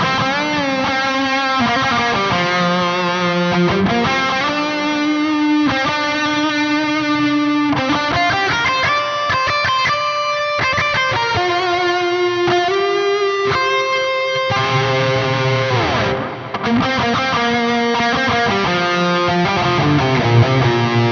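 An electric guitar played through a Soldano SLO100 amp with reverb rings out loud and distorted, sustained chords and melodic lines flowing continuously with a lush reverb tail and no talking.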